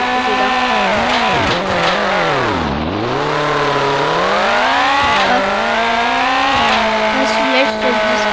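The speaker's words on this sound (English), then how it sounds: "Let's test this car on the race." Car racing in the video game Car Dealership Tycoon, a loud revving engine whose pitch rises and falls through gear shifts and a deep dip, continuous and close.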